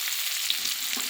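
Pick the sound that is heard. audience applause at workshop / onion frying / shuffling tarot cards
onion frying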